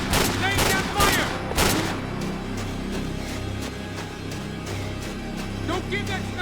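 Heavy gunfire in the video game Max Payne 3: dense, rapid bursts of shots crackling back and forth in a sustained firefight, loud and close, with voices shouting amid the shooting.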